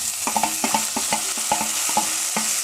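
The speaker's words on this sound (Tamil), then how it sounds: "கொஞ்சம் சிம்மிலே வதங்கட்டும்" Onions and tomatoes sautéing in a pan for a Chettinad pumpkin sour curry: a constant bright sizzle with a quick series of spatula knocks and scrapes against the pan.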